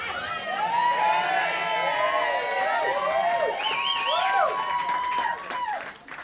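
A comedy club audience claps and cheers, with high whoops and shouts riding over a continuous wash of applause that fades near the end.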